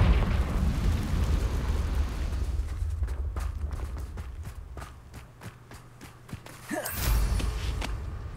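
A Confringo explosive spell goes off in Hogwarts Legacy with a loud blast and rumble, followed by a run of sharp rhythmic impacts and another burst near the end, amid dense game effects.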